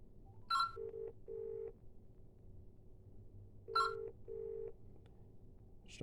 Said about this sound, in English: I'm starting to dial now.